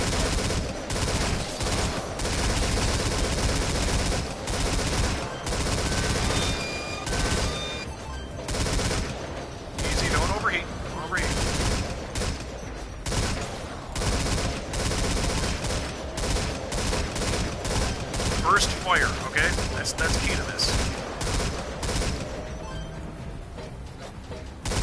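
Heavy turret fire in Metal Gear Survive, a sustained fusillade of rapid gunshots that hammers on almost continuously, with dense overlapping bursts, crashes and thuds from the fight all around.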